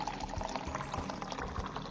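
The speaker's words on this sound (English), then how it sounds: "Then fill the remaining flask with distilled water exactly to a 1 liter mark." Distilled water is poured into a laboratory flask, a brief, soft, bubbling trickle of liquid heard close and quiet, without talk.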